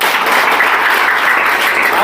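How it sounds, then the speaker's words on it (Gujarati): A group of children claps together at a school water day celebration, giving a dense, even burst of applause at close range that lasts the whole time with no talking. "બધા તાળીઓ પાડો।"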